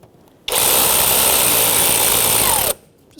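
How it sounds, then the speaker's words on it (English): Front strut bolts on a 2015-2024 Jeep Renegade are snugged with an E14 inverted Torx socket on a power tool, giving one loud, steady whirring burst of about two seconds with no talk. "I'm just going to snug them up with that E14 inverted Torx"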